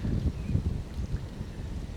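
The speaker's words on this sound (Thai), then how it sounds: "ลมเย็นจ้อยพี่น้อง" Cool wind buffets a microphone on a road trip between Hongsa and Xaignabouli in Laos, a steady low rumbling roar with gusty swells throughout and no voices.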